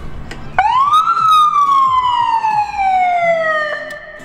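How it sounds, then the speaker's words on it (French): An American-style siren on a Rosenbauer 64 m aerial ladder fire truck wails loudly and close, a single rising then slowly falling tone. "Là, on va tester les sirènes"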